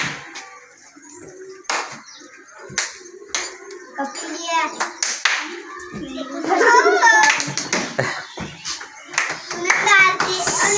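Children clap their hands in a clapping contest, a flurry of sharp, close claps spread over several seconds, mixed with kids' chatter and an adult voice.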